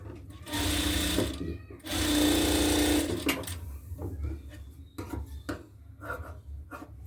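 A sewing machine stitches Patiala salwar fabric in two loud bursts of rapid whirring, followed by fainter handling noises of cloth with a voice talking over them.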